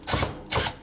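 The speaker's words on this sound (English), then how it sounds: "Now let's drill these in a little bit." Drill driving screws into a wall mount, two short whirring bursts of roughly a fifth of a second each, separated by a brief pause, close and fairly loud with no talk.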